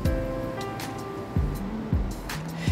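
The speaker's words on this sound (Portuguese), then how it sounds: "essa água aqui que está escorrendo aqui é água que vem da montanha" Mountain water runs down toward a beach, a steady broadband rush with faint low tonal hums and a few soft swells, heard alone without speech.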